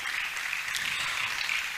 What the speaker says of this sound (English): Keep on clapping, keep on clapping.